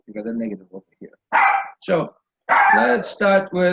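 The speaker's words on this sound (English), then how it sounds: "oh, that's my dog." A dog barks a few times in the background of a math lesson, the sharp yips breaking in between and under a voice explaining compound inequalities.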